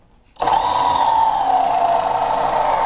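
A power drill bores a pocket hole through a side panel of wooden Montessori shelving with a pocket hole jig, starting abruptly and whining steadily and loudly for nearly three seconds up close.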